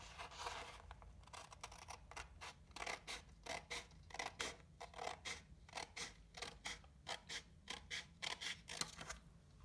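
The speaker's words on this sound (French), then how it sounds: "vous allez prendre vos ciseaux et couper le long du bord qui a été plié" Scissors snip through folded paper along the fold in a quick run of crisp, rhythmic cuts, close and quiet, with brief pauses between bursts.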